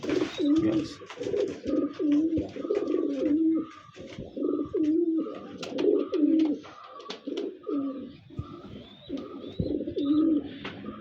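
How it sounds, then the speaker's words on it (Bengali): A golden pigeon coos over and over in soft, rolling phrases, close by and fairly quiet, with a few faint chirps mixed in. "এই দেখেন গোল্ডেন কবুতর মার্শাল্লাহ খুব ভালো বিলাডের কবুতর"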